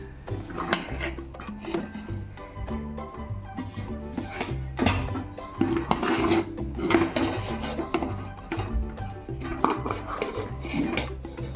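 Sabudana-potato dough for papad being scooped out of a metal pot, with repeated close scraping and knocking of a spoon against the vessel in an uneven rhythm, no talk.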